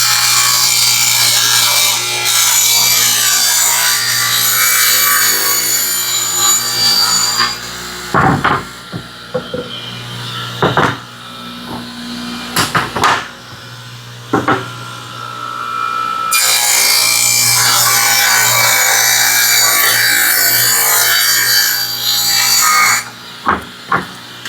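A table saw ripping plywood into strips, with a loud sustained whining cut for several seconds, a stretch of quieter knocks and handling, then a second long cut, close and without talk.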